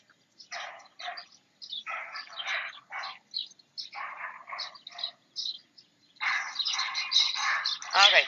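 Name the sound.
birds chirping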